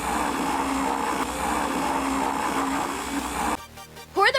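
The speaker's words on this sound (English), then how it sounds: "Put them in a blender." A blender whirs loudly and steadily for several seconds, mixing ice cream with onion and sardines, then cuts off abruptly, leaving quieter sounds and a brief chirpy noise at the end.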